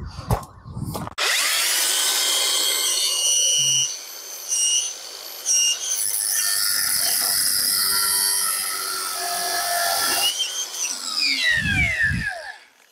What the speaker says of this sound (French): un coup de disqueuse au milieu pour le transformer en tournevis plat sur le dessus